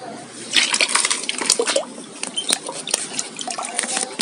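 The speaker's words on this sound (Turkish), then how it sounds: "Bunları yavaş yavaş şunun içine dökmeye çalışalım." Water pours from a bucket into a container at a bird enclosure, a close, splashy, gurgling stream with a few heavier splashes, running continuously for a few seconds with no talking.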